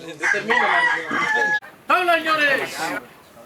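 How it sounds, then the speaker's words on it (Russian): Loud, close rooster crowing in two long, strained calls, separated by a brief gap, at a cockfight in Honduras. "Бой заканчивается, когда петухи уже не в состоянии двигаться."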